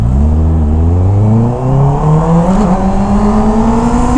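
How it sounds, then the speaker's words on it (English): Motorcycle engine revving up steadily and loudly, pitch climbing over several seconds with a brief dip partway through, close and continuous with no talk. "Your bike sounds like you don't know how to ride."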